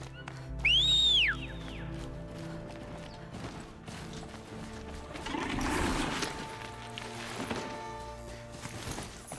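A short rising-then-falling whistle, used to lure machines in the Horizon video game, rings out near the start, followed by mechanical clanks, footsteps and game ambience.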